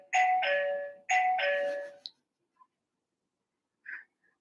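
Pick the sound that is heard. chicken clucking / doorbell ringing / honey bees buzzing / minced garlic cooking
doorbell ringing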